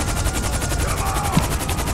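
Rapid automatic gunfire from the GTA video game rattles steadily and loudly in a fast, even burst of shots that runs for the full two seconds.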